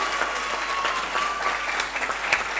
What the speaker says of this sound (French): Est-ce qu'on peut applaudir très très chaleureusement pour le lycée Ibn Mahadir?